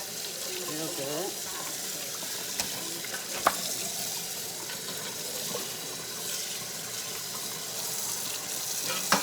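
Raw ribs rinsed under a running kitchen tap, a steady hiss and splatter of water in a sink, with faint handling clicks and a few soft knocks.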